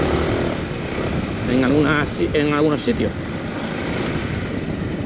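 Macbor Montana XR5 motorcycle engine droning while riding off-road, a continuous loud rumble with wind buffeting, and a rider speaking over it partway through.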